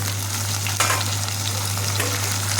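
Fish pieces go into hot oil with ginger for a fish curry, setting off a close, continuous frying sizzle with a few stirring scrapes over a low steady hum. No one speaks.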